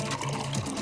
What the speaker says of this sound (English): He's already pouring his